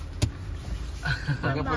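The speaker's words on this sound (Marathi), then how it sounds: "गाडी आतमध्ये घेते" A car is driven in through a gate, its low engine rumble running steadily beneath people talking nearby.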